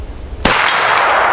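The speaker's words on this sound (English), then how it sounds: "Steel cased ammo. Open sights. There we go, firing." A single sharp shot from a Hi-Point 995 carbine firing steel-cased ammunition with open sights, a loud close crack followed by a brief ringing tail.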